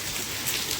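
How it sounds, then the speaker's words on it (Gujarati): Heavy rain is falling outside, heard as a steady, dense hiss that stays even and unbroken throughout, with no voices over it. "ફૂલ વરસાદ ચાલી રહ્યો છે."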